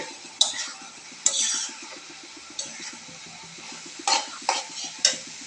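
Potato and bean fry stirred in a pan, several sharp spatula scrapes and clinks at uneven intervals over a steady low hum, close and moderately loud.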